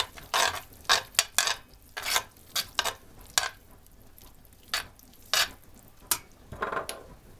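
Carrots and onions for a stuffed-cabbage filling frying in a pan as frozen sweet bell pepper goes in, heard as irregular clinks and scrapes of a utensil against the pan over a soft sizzle.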